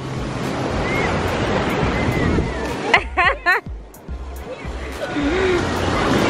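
Ocean surf rolls and washes steadily onto a beach, a broad close roar with wind buffeting the microphone; the wash briefly drops out partway through under a burst of nearby voices and crowd chatter, then swells back.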